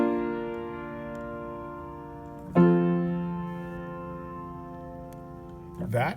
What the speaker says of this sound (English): The last 2 chords of the Hallelujah chorus go from 4 to 1, and they sound like this.